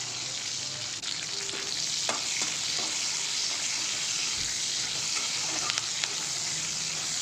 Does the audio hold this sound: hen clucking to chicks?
no